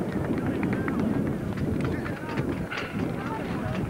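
Cavalry horses charge in a Roman army versus ancient British battle reenactment at Maiden Castle in 1993, a dense, continuous rumble of galloping hooves close by, with faint voices in the mix.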